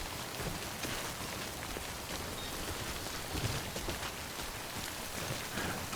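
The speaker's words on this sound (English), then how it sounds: "The Timefall should be refilling our canteen." Steady Timefall rain from the video game Death Stranding pours over the scene, a dense continuous patter of drops on surfaces at an even, moderate level with no voices.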